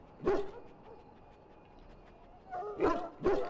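A dog in the video game Dragon Age: Origins barking in sharp, close yaps: one bark, a quiet pause, then two more in quick succession.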